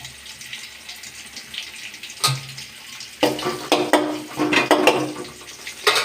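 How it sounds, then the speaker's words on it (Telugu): Garlic is tossed into bitter gourd frying in a pan and stirred, a steady sizzle swelling louder with spoon scrapes and clatter against the pan, close up with no talk. "దీంట్లో వెల్లుల్లి వేస్తున్నాం"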